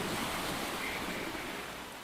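Ocean waves wash steadily onto a Busan beach, a dense, continuous roar of surf recorded close-up in ASMR style, slowly easing in loudness with no voices.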